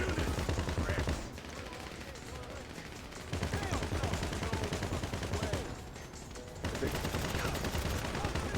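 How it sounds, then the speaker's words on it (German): Rapid bursts of gunfire from a GTA 5 Online heist mission rattle on steadily and loudly, with dense overlapping shots and brief dips between volleys. "Auf mich wird geschossen."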